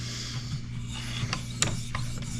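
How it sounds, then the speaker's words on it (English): A knife edge being sharpened, with short scraping, rasping strokes repeated at an uneven rhythm, close and fairly loud with a steady low hum behind them. "I'm just, like I said, sharpening a knife."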